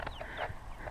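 Backyard homestead chickens cluck softly in a brief, close burst of a few short calls over faint background noise.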